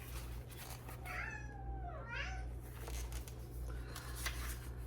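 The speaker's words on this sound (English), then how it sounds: "He's meowing at the door." A house cat meows at a closed door, a couple of rising-and-falling cries in the middle, fairly close over a low steady hum and faint room noise.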